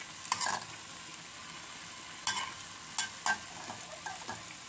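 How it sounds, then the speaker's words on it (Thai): Ginger and mushrooms being stir-fried in a hot pan, a steady quiet sizzle broken by a few sharp scraping strokes of the spatula at irregular intervals, close by with no talking. "ผัดนะคะจะมีนี่ค่ะมีขิงนะคะมีเห็ดนะคะ"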